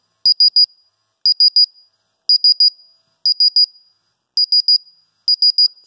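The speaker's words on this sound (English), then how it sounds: "you can see the high alarm, the frequency has increased." A ToxiRAE Pro CO2 gas detector in high alarm gives loud, sharp electronic beeps in quick triple bursts, six groups repeating at a steady fast pace with brief silences between.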